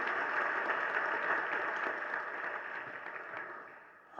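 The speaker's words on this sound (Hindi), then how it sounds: "ये बीच बीच में तो आप लोग ताली बजाते हैं ना" A crowd claps through a Hindi Jain sermon by Vidhya Sagar Ji Maharaj, producing a dense, steady wash of applause that holds for several seconds and thins slightly near the end.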